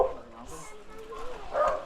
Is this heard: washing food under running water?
no